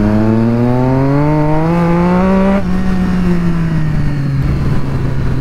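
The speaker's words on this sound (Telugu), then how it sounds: "థ్రాటిల్ బాడీ క్లీన్ చేసిన తర్వాత అయితే బండి చాలా లౌడ్ అయిపోయింది" A Triumph Street Triple motorcycle engine, running loud after a throttle body cleaning, revs up close and steadily in one long climb, then eases back to a lower drone.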